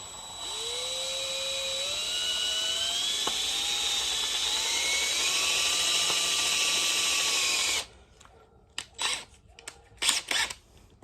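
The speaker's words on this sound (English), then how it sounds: "Now we're going to put the drill bit in. Start with a small drill bit." Small drill bit boring into the LS 5.3 engine block during a boat engine swap, a steady whining power-drill tone with pitch rising and shifting as the bit bites, running about eight seconds before stopping, followed by a few scattered clunks.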